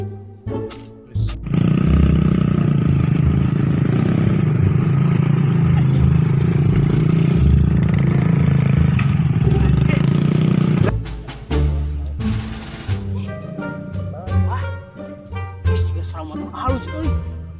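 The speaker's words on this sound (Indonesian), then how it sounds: "Wah, motor halus euy." Smooth-running motorcycle engine revving in a roaring, sustained burst for several seconds, loud and close, then cutting off into clatter and speech.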